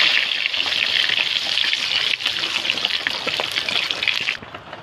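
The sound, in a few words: spices sizzling in hot frying oil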